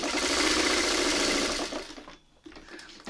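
Sewing machine running steadily and loudly while stitching a quilt pattern, a continuous whirring drone that stops briefly near the end, then resumes with a few short bursts.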